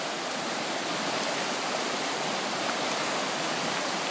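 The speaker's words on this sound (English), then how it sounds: "Creek's just about to go over the bank." Cayuga Creek in early June, swollen to just below the top of its bank, gives a steady, dense rushing roar of fast water that stays loud and unbroken throughout.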